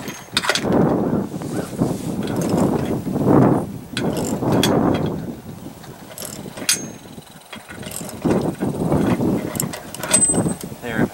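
A socket wrench ratchets in bursts of rapid clicking while it drives a bolt into a nylon lock nut during assembly of a 2013 V6000 boat hoist. There are short pauses between the bursts of turning.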